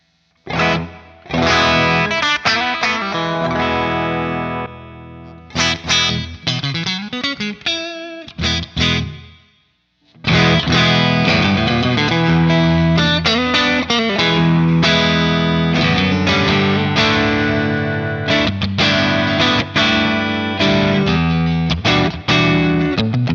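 Electric guitar through a Tube Screamer overdrive pedal with its level maxed, pushing the amp's input, plays riffs with gritty, crunchy breakup, dropping out briefly near the middle before resuming loud and sustained to the end.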